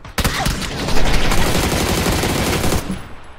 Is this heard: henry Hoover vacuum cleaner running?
no